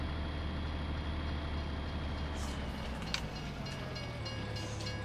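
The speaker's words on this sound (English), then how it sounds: "the trains moving by themselves." Trains rolling by in the video game Farming Simulator 19, a continuous low rumble of wheels and engine that holds steady throughout, with faint higher squeals near the end and no talk.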